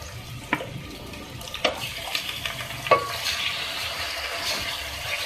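Beef pieces for aloo gosht sizzle in a pan as they are stirred, with a steady hiss and a few sharp scraping clacks of a spoon against the metal, fairly quiet and close.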